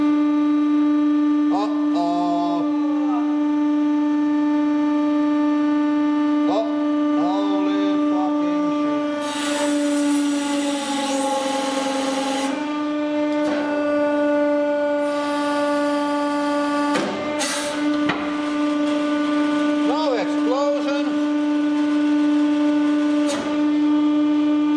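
A hydraulic press crushing a 3 kg workout ball gives a loud, constant droning motor hum, broken by a few harsh bursts of hissing and crackling as the ball gives way.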